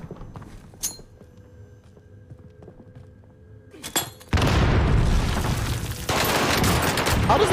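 A grenade goes off in a video game as a sudden loud blast, followed by sustained roaring, crackling noise that fills the rest of the clip. Faint game sounds and scattered clicks come before it.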